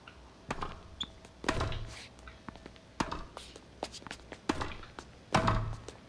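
A tennis serve struck in the Xbox 360 game Grand Slam Tennis 2, heard as sharp thumping impacts recurring several times at an irregular pace over faint background noise.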